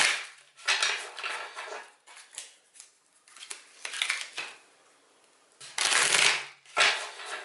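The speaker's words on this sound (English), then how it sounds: "we're just shuffling until I get that gentle stop" Tarot cards shuffled by hand in repeated bursts of crisp riffling and sliding, close and fairly loud, with brief pauses between bouts and no talking.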